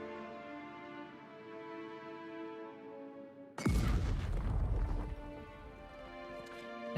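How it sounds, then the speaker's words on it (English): A grenade blasts through a wall in Pillars of Eternity II, one sudden loud boom that rumbles for about a second and a half and cuts through steady background music, which plays on before and after. "bomb the wall with a fucking grenade then"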